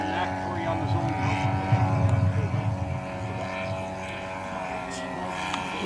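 A Fokker Dr.1 model airplane flies in to land at an RC air show, its small engine droning steadily at a moderate distance as an announcer speaks over a PA.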